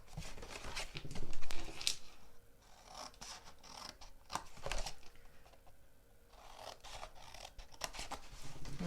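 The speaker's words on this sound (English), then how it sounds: "we're going to cut in on both of those edges" Scissors snip and slide through card while making a desk tidy, with quiet, close, irregular cuts and scraping strokes and no speech.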